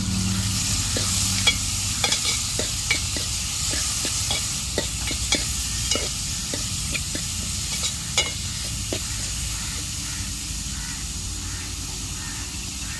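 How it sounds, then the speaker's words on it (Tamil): Onions and curry leaves are sautéed in a pan for mutton kulambu, giving a steady sizzle with regular scraping and stirring clicks from a utensil, close and continuous, with no talking. "தேவையான அளவு வெங்காயம், கருவேப்பிலை எல்லாத்தையும் போட்டு நல்லா வதக்கிக்கலாம்"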